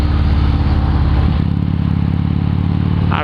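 Harley-Davidson motorcycle engine running, its exhaust tip fitted with a baffle, giving a loud, close, steady low rumble that shifts slightly in pitch partway through.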